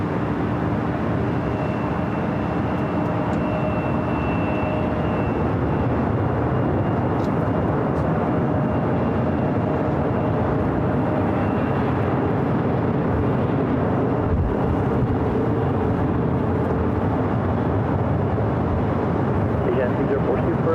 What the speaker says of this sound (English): the A380 Super will now cross over 24 left